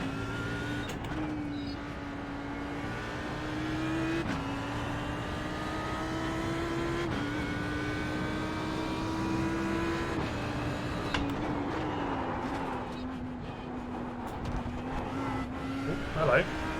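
A race car engine drones steadily through practice laps at Sebring in the iRacing sim, its pitch rising and dropping with gear shifts, continuous and close throughout.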